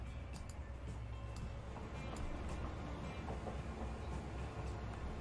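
A train rolls steadily through Transport Fever 2, a continuous low rumble and clatter of wagons that stays even and fairly close for the whole stretch, with no talking over it.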